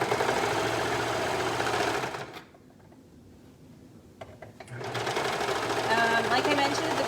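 A sewing machine stitching stretch crepe fabric for a kids' outfit, running in a fast steady whir that stops for a couple of seconds in the middle, then starts up again, loud and close.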